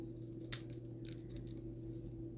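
Scissors cut black sticker paper with a few faint, quick snips against a steady low hum, close but quiet.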